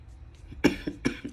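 Two quick coughs close to the microphone, the second following shortly after the first, with a bit of throat noise in between.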